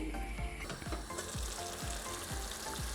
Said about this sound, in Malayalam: ഇപ്പം നമ്മുടെ ചിക്കൻ കറി നല്ലപോലെ തിളച്ചിട്ടുണ്ട്